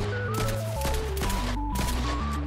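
Gunfire in the Fortnite video game, rapid bursts of shots over a constant bed of in-game music with shifting tones, loud and continuous through the moment.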